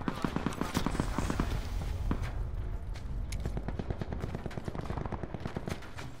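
Gunfire in the shooter game Call of Duty Black Ops 4, with rapid automatic bursts and scattered single shots going on continuously, mixed with other game sounds.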